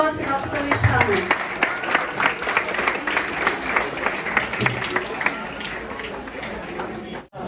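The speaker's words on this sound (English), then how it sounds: "Please give a round of applause for Dr. Pravesh Tamang" An audience at a youth spiritual awareness conference in Khaprail gives a sustained round of applause, many hands clapping steadily and fairly close for about seven seconds before it cuts off abruptly.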